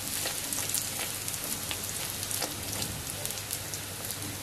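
Bhature dough puffing in a kadhai of hot oil, a steady dense sizzle and crackle of frying, close and even throughout with no talk.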